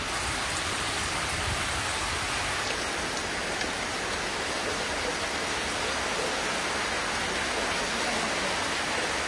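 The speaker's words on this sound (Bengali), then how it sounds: "এত জোরে বৃষ্টি হচ্ছে, কন্টিনিউয়াসলি বৃষ্টি হয়ে যাচ্ছে" Heavy monsoon rain falls continuously, a thick, uniform roar of water on surfaces that stays loud and steady throughout with no voices.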